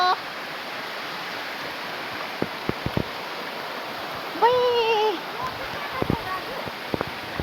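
A flowing stream rushes steadily as a continuous broadband wash of water, with a few brief taps and a short tonal whistle or call partway through; no voices stand out.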